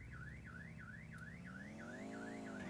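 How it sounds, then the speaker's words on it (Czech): A car alarm in GTA IV wails in a steady rising-and-falling siren cycle, loud and continuous, with a low engine-like drone underneath. "tady nás alarm nezajímá"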